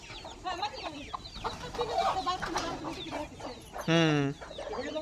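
Several free-range village chickens on a farm, a hen among chicks, cluck and chatter close by in a busy, overlapping stream, with one loud drawn-out squawk near the end.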